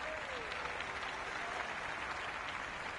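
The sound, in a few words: cricket crowd cheering in video game Cricket 26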